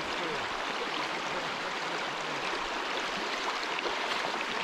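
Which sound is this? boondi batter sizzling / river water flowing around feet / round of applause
river water flowing around feet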